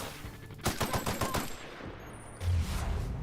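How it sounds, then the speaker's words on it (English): Bursts of assault rifle fire in the video game The Outer Worlds, a rapid string of shots about a second long and then a heavier thud, fairly quiet in the mix. "Assault rifle."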